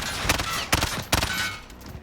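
Cover-fire gunshots in Call of Duty: Warzone, a loud run of rapid shots with three sharper bursts standing out over continuous gunfire noise.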